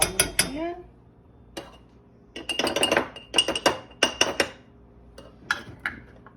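Carob fudge mixture is scraped into a pan with a series of close metallic clinks and knocks of utensils against cookware, several sharp taps in irregular bursts, and a brief voice at the start.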